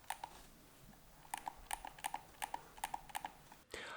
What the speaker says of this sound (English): start moving the analogs all around and play with them, even start clicking them